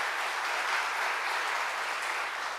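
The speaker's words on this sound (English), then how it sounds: "round of applause" Steady, dense applause from a large audience at an awards ceremony in Washington, D.C., a continuous wash of clapping with no voices standing out.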